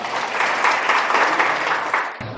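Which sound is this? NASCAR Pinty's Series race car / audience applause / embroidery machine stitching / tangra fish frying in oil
audience applause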